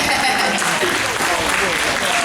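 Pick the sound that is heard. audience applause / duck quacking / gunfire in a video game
audience applause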